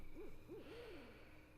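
Three soft owl hoots in The Last Door, two short rising-falling calls followed by a longer drawn-out hoot, faint over a steady low background hum.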